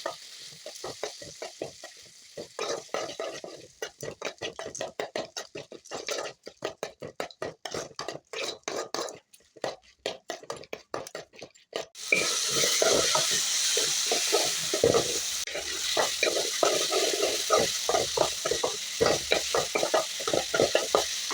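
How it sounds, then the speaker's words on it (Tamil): Tomatoes sauté in a pan for chutney, a spoon scraping and stirring in rhythmic strokes, then a louder, steady sizzle takes over partway through with continued stirring. "தக்காளி நல்லா வதங்கிடும்"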